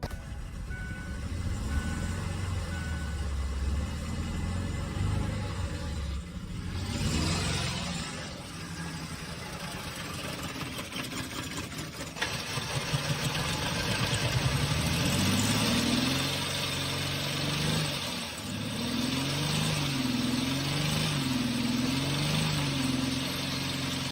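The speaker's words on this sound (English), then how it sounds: "the engine was making a knocking noise" A knocking car engine idles steadily for a long stretch with a low, uneven rumble and periodic rhythmic pulsing, heard close up without any talking.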